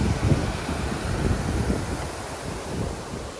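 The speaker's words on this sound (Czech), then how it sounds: "Voda." Waves wash against the shore amid strong wind buffeting, a constant rough roar with slight swells in loudness.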